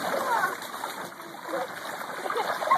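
Garden hose water splashing and spattering into a backyard pool, a steady fluctuating wash of water, with children's voices talking faintly through it.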